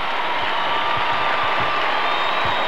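A large standing crowd at a World Youth Day gathering cheers and applauds for Archbishop Keeler of Baltimore, a steady dense roar of clapping and shouts that fills the whole clip.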